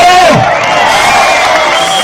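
A large rally crowd roars with cheering and whoops, a dense sustained wall of voices filling the space with no pause.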